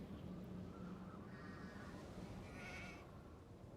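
Sheep bleat in the Nancy Drew game The Haunting of Castle Malloy, a few short wavering calls over a dense, low ambient bed, moderately close and fairly quiet.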